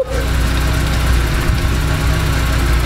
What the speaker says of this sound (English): So we'll start the engine and we'll see what happens.